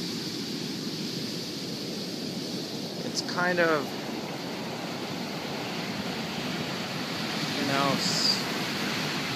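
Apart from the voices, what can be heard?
ocean waves breaking on beach on a windy day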